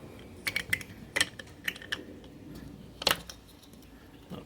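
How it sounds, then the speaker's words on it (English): A motorcycle radiator cap being fitted back on by hand, giving a few faint, sharp metallic clicks and ticks close by, scattered over a few seconds against a quiet background. "what we do now is we put the radiator cap back on"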